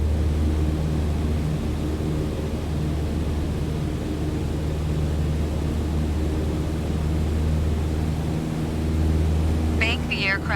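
Steady droning aircraft engine from Microsoft Flight Simulator, a constant low hum with broadband noise holding at even loudness throughout, with a brief higher whine near the end.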